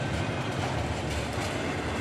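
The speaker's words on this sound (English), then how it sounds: "we then saw that KCS train as it headed west towards Kansas City" A Kansas City Southern freight train running over CSX track rolls past close by, a loud, continuous rumble and roar of wheels and cars that fills the whole stretch with no voices.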